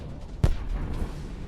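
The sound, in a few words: tank shell explosion nearby, real front-line footage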